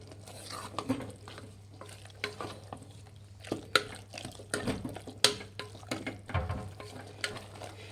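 Mutton pieces stirred with chili powder in a pan, scattered scraping and clinking of a spoon against metal over a faint sizzle and a low steady hum, with occasional louder knocks.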